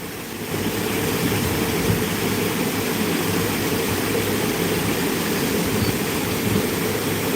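A steady, loud roar of strong wind beside a river buffets the microphone the whole time, with deep rumbling underneath and no voices.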